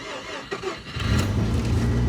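A Mazda FD RX-7 rotary engine cranks briefly and fires up, settling into a rough, lumpy idle close by.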